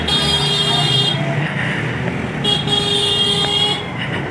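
Vehicle moving over a sandy construction road near Ayodhya, with a loud steady engine and road rumble, a car horn blaring at intervals, and surrounding traffic noise.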